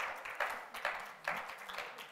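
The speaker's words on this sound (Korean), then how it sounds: "박수 좀 부탁드릴게요. 네, 박수." A few rhythmic claps of applause from a small church congregation during a baptism service, moderately loud, pulsing in short bursts with no talking over them.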